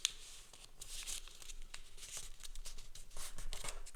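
Paper for an origami crane crinkles and rustles continuously while it is creased and folded by hand, close and soft, with scattered sharper crackles and no voice.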